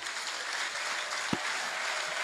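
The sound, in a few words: audience applause in church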